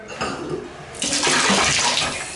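Hot water running from a bathroom tap during a pressure check: a quieter trickle first, then the flow opens up into a loud, steady splashing gush that fills the rest.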